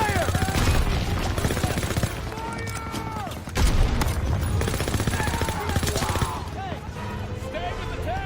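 Heavy gunfire fills a WWII video game battle against an MG-42 machine gun nest: bursts of automatic fire, a few louder booms and scattered shots, dense and continuous throughout, with shouted voices mixed in.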